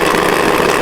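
A loud, steady rush of engine noise from an SR20-swapped Miata with a hissing, airy whoosh of the turbo dump valve venting, continuous and close, with no voices.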